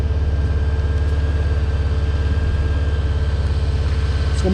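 A Honda CBR600F4 sport motorcycle engine, freshly carb-rebuilt, runs steadily while riding, a close, continuous low mechanical drone with a fast, even pulse throughout.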